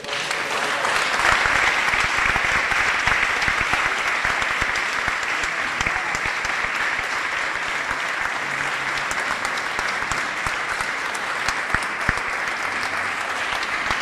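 Sustained, dense applause from a crowd gathered at a public talk on legality, steady and even throughout with no voices breaking through.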